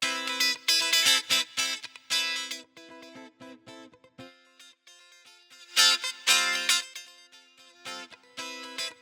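A clean electric guitar through an amp's clean preset plays short strummed chords and plucked notes with pauses between phrases, bright and undistorted.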